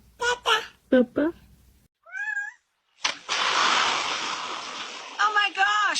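A cat gives a short, rising meow between bursts of human voices, followed by a long rushing noise and more voices, with another brief meow-like cry near the end.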